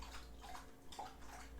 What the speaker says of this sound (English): He's drinking the whole damn water thing.